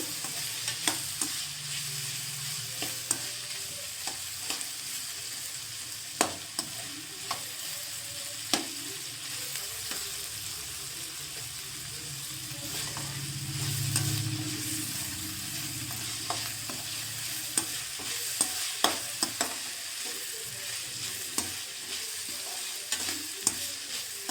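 Onions salted in a frying pan are stirred steadily with a utensil, giving repeated scraping clicks and taps over a low, constant sizzle, close up and with no voices.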